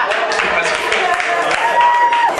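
A comedy roast audience applauds David Williams, steady broadband clapping at full strength throughout, with a few voices mixed into the crowd noise.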